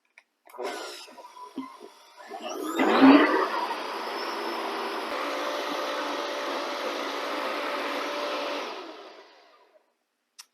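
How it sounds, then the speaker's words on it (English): A high-speed blender purées plant-based cream cheese, starting after some handling clatter with a loud surge, then holding a steady, close whirring roar for several seconds before cutting off. "just enough water where you get it to mix up and everything starts to blend through your blender and get creamy"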